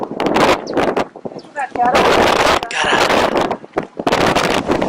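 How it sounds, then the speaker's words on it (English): Strong wind at Torres del Paine buffets the microphone in loud, gusty roars that rise and fall, with brief quieter lulls between blasts. "Can you see the wind is so strong?"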